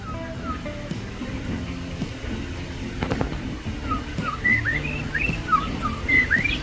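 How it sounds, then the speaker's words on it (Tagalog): A bird chirps and whistles in short, bright bursts over a low background hum, the calls growing busier in the second half. "may lumalapit na ibon yan, oh"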